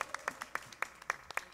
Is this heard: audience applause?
yes